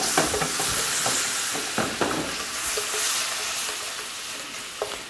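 A spoon scrapes and rubs around a bowl of caramelizing brown sugar over heat, a close sizzling hiss punctuated by repeated short scraping strokes, with no talk.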